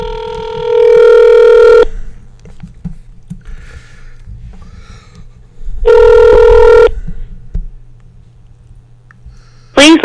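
A telephone call being placed, with two long, loud electronic ringback tones separated by a pause, faint handling noise between them, and a short tone burst at the very end.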